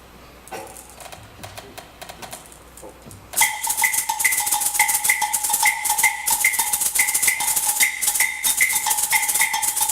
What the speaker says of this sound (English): there's a rhythm that is extrapolated from that, the 3-2 clave, which has that same figure